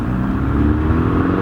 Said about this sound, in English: You can hear it switch from quiet to loud when you get on it.